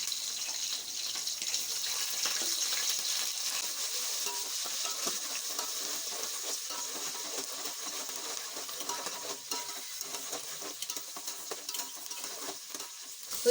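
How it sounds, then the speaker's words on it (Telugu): Sliced onions and green chillies fry in hot oil, giving a steady bright sizzle that holds close and even throughout, with faint stirring crackles and no voices. "ఉల్లిపాయలు కట్ చేసుకున్నాం కదా, ఉల్లిపాయలు కూడా ఆయిల్ వేసేసుకోవాలి."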